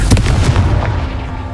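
A Confringo fire spell explodes in Hogwarts Legacy, giving a close, loud cluster of sharp blasts in quick succession that fade into a rumbling tail.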